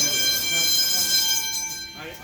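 At a flea market, a falsely pulled fire alarm bell rings continuously, loud and metallic, while a voice speaks nearby over it.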